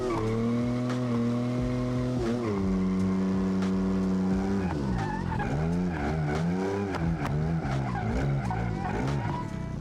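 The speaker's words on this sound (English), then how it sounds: "It sounds like it's like missing like 2 cylinders anyway, or 1 cylinder." A rough-running car engine in the racing video game RLS, apparently missing a cylinder or two: a steady loud drone with a lumpy tone that shifts pitch partway through, overlaid with tire squeal and skidding, close and continuous.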